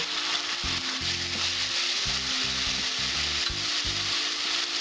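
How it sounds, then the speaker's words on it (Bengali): Spice paste for a restaurant-style pomfret fish curry sautéing in a pan on low heat, a steady close sizzle and fry with repeated soft stirring scrapes, no talk. "আঁচটা কমিয়ে দেব, কম আঁচে আমি মশলাটা কষিয়ে নেব।"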